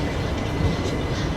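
A train pulls out of Gadag Junction, a steady, close rumble of railcars rolling with continuous wheel and carriage noise and no distinct clacks, and no voices.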